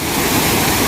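Gadchandi waterfall in Keonjhar pours with a loud, continuous, dense roar of rushing water, heard up close and alone.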